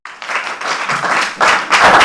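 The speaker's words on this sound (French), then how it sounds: "La présidente du jury et le membre du jury qu'on applaudit" Applause from a live audience greets the jury president and a jury member at a Dolait Show semi-final competition, dense clapping swelling louder in bursts near the end.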